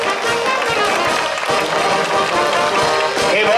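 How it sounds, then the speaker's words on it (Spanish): A crowd applauds the bullfighters' cape handlers, a broad steady wash of clapping filling the whole stretch at moderate loudness, with some scattered voices mixed in. "Regalen un aplauso a los capoteros"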